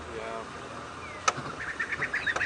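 A drongo gives a run of short, clear whistled notes that quicken and climb, imitating a pearl-spotted owl's call, against a quiet outdoor background.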